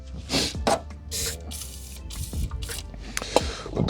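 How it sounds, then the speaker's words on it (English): PB Blaster penetrating oil is sprayed onto the brake bleeders of a 1985 Merkur XR4Ti in a series of short hissing bursts, close up, separated by small clicks and handling noises. "I'm just spraying up the bleeders"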